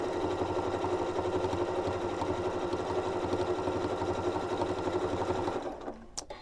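A Janome M6 sewing machine stitches shut the opening of a bamboo neck warmer, its motor giving a steady, close, even whir that runs continuously for about five and a half seconds and then stops.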